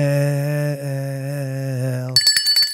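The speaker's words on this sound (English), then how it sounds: "You can ring Doug's bell" A sustained ringing bell tone holds steady for about two seconds, then breaks into a few quick, bright metallic dings.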